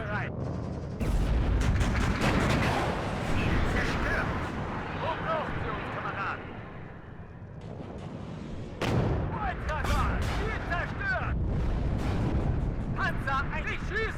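Heavy artillery fire in the WARNO strategy game: continuous rumbling barrages and booming impacts, loud and dense throughout, with a brief lull midway before the shelling picks up again under game sounds.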